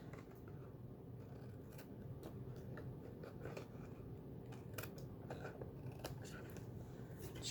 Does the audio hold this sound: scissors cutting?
yes